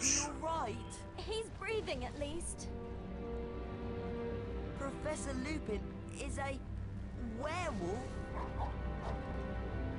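A dog barks and yips in the Harry Potter and the Prisoner of Azkaban video game, rising in short bursts over game music and sound effects while people talk throughout.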